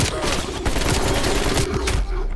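Rapid gunfire from a gun in the video game Call of Duty Black Ops Cold War, loud dense bursts of shots crackling continuously over a couple of seconds.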